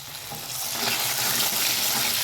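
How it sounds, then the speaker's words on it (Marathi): Garlic fries in a pan while being stirred, a loud, dense, continuous sizzle that swells slightly and holds steady throughout, close and without speech. "त्याच्यामध्ये भरपूर सारा लसण, थोडंसं हलवणार आहोत।"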